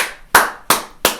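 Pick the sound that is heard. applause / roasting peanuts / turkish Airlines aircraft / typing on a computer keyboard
applause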